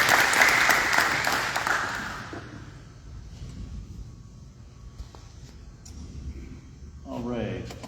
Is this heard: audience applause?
yes